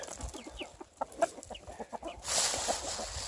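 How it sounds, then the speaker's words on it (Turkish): Free-range chickens clucking up close as organic wheat is scattered for them at a farm in Çağlarca, Antalya: a run of short, quick clucks, then a denser rustling scramble. "Şimdi ben bu bekleşen tavuklara buğday atıyorum"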